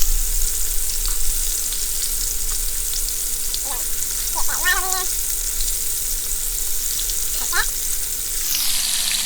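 Cheese-stuffed meatballs sear in a hot pan with a steady, even sizzle that runs throughout, broken by a few faint squeaky clinks near the middle and end.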